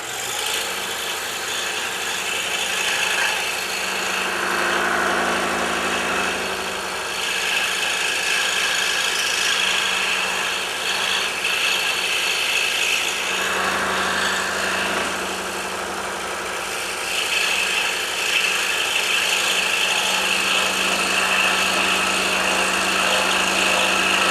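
A scroll saw whirs steadily through a wooden hammer handle for a long stretch, its buzzing tone dipping slightly in places as the cut continues.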